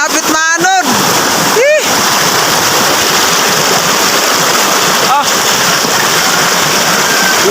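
Strong floodwater rushing loudly after heavy rain, a steady broadband roar filling the whole clip, with a few brief voice bursts near the start and later.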